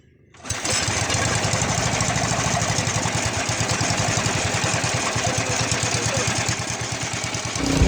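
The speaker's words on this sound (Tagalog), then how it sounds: "Kinakailangan na gumamit ng makina para sa kompresor." A small engine powering an air compressor for diving at sea sputters to life and settles into a steady, rapid chugging, running loud and close with an even mechanical rhythm.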